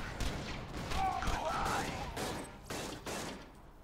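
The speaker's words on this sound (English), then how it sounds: "She dropped this machine gun I'm using right now, didn't she?" Rapid machine gun bursts in Borderlands, sharp repeated shots crackling in clusters at moderate distance, mixed with someone talking over the gunfire.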